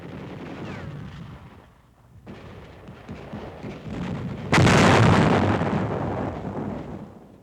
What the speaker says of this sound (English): Demolition men prepare a high explosive charge to seal Japs in a hillside cave